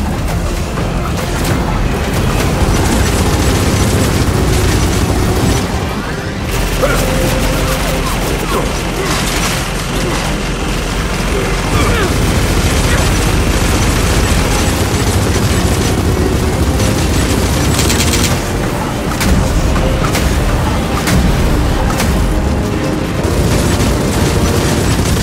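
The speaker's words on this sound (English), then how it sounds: "Rockets, take cover!" Rocket explosions rip through a Gears of War 4 firefight, a dense, continuous barrage of loud booms and bursts with gunfire mixed in, nearly unbroken for the whole stretch, with voices shouting intermittently over the chaos.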